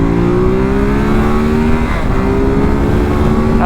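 A Ducati SuperSport 950S motorcycle engine holds steady at half throttle, giving a loud, continuous, close-up drone with one brief dip partway through.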